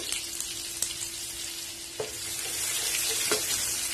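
Garlic, dried red chillies and curry leaves fry in oil with mustard seeds for coriander thokku, with a steady close hissing sizzle and a few light stirring clicks, no voices.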